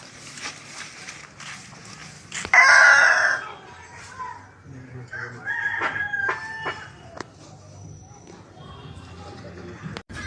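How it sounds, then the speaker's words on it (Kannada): A village country rooster gives one loud crow, and free-range hens cluck softly afterward in a rural yard. Speech is heard in the background. "ನಾಟಿ ಕೋಳಿಗಳು ಹುಂಜ"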